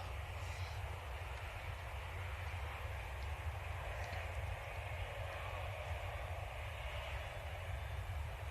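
A Cathay Pacific Airbus A350-900 bound for Hong Kong at Manchester Airport, heard as a faint, steady low engine rumble that holds without change, distant and alone.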